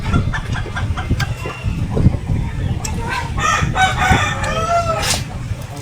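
Chickens, including hens and a rooster, cluck and crow close by in repeated calls that run throughout, mixed with people moving about and a voice or two in the background.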